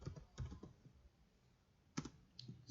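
Computer keyboard typing in a quiet room as code is entered, short bursts of soft key clicks near the start and again near the end with a pause between.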